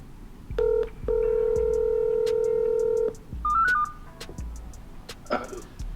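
A phone call being placed: a short run of dialing tones, then a long steady ringback tone, then a brief rising chirp of the line connecting, followed by faint clicks and a bit of noise.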